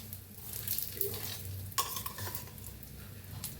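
Puran poli flatbread roasts in ghee on a hot pan, giving a soft close sizzle with a few sharp spatula scrapes and light clinks over the short stretch, and no voices.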